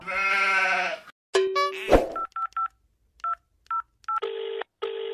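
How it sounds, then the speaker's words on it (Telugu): Someone dials a telephone, and short electronic dialing beeps come one after another, close and clear, ending in longer tones. A bleating animal-like sound comes before them. "లడ్డు పంతులు ఫోన్ చేసి జల్ది రమ్మని చెప్పురా."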